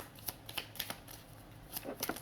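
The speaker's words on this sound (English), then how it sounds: "I don't even really like how these shuffle." A tarot card deck is shuffled in a few quick riffling bursts, soft and close, with brief pauses between the flicks of the cards.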